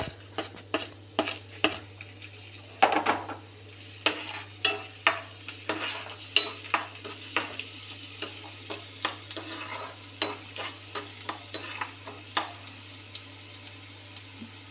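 Ginger and garlic frying in hot ghee with a steady sizzle under quick, repeated scraping strokes of a spatula in the pan, close and continuous, with no talking.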